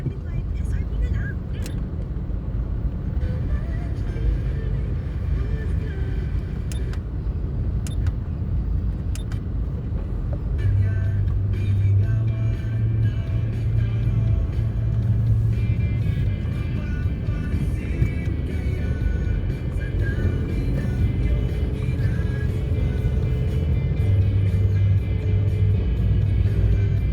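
Road traffic heading toward Cubao, a steady low rumble of cars and engines close by, with a louder vehicle drone passing midway and a voice talking over it.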